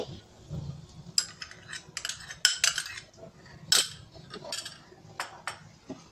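A spoon scrapes and clinks against a bowl while sour yogurt (tok doi) is mixed, giving irregular close metallic scratches and taps with quiet pauses between strokes.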